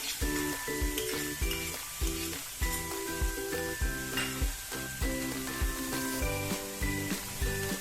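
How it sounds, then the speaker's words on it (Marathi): Soft onion and tomato sizzle in a pan, a faint steady frying hiss sitting beneath rhythmic background music with a repeating melody. "कांदा आपला छान परतून झालाय तो मऊ झालाय आता मी त्याच्यात एक छोटा टोमॅटो टाकली आहे"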